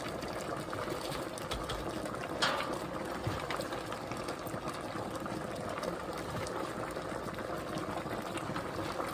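A water bath canner holding #10 cans of apples bubbles at a steady rolling boil, a continuous dense seething with small pops and gurgles throughout, close and even with no one talking.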